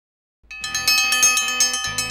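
Dinner bell at a barbecue restaurant, rung sharply after a moment of silence, with rapid repeated bright metallic strikes that keep ringing loud and close.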